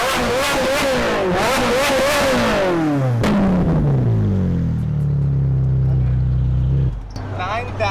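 A straight-piped Ferrari 458 V8 revs hard up close, its sharp howl rising and falling before dropping to a deep rumbling idle, with voices underneath.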